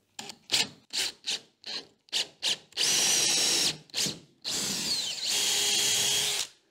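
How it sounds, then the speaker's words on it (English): A power drill with an auger bit bores through wood in a string of short whirring bursts, then two longer sustained runs, loud and close. "get your drill sort of even, and then we'll just drill right through"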